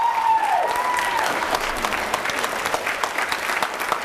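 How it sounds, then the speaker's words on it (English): An audience at a high school orchestra spring concert breaks into steady, dense applause that fills the room, clapping continuously throughout from a crowd heard at moderate distance. "Round of applause for Luann."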